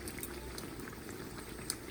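Indian taco fry bread frying in hot oil, a steady dense bubbling sizzle that carries on evenly throughout with no voices over it.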